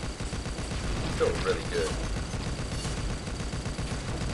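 The Bigby oven weapon fires in the video game Pixel Gun 3D as a dense, loud, continuous barrage mixed with game noise, while a person talks over it.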